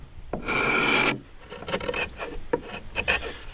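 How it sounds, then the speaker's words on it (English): Scraper dragging lacquer off wooden oak veneer against the grain on a bell clock case: one long, loud rasping stroke, then several shorter, quieter scrapes and rubs. "I'm really just searching for the amount of pressure required to catch and drag off the lacquer."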